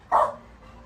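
A single short, sharp bark from a dog playing with other pups, close by, followed by quiet room tone.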